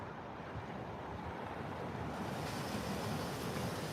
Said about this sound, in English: These waves are real, powered by the Lord.